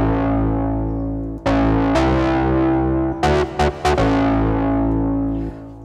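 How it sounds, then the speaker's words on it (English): RePro-1 software synth playing a brassy harmonic stab patch drenched in reverb and echo: a loud sustained chord with several sharp re-attacks near the end, tails ringing out, no talking. "So brassy harmonic stab kind of thing."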